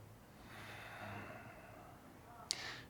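A soft, steady breath drawn in through the nose during a calm morning yoga session, faint and close, ending with a brief sharp sniff.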